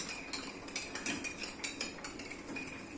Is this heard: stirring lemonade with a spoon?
yes